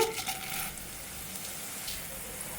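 Onions and coriander seeds frying in a pan, a soft, continuous hiss and crackle of sizzling oil with faint bursts, fairly quiet and steady, no talking.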